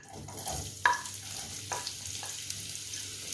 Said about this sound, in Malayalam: ഇതിലേക്ക് നമ്മൾ എടുത്ത് വെച്ചിരിക്കുന്ന ഓണിയൻ ചേർത്ത് കൊടുക്കുക.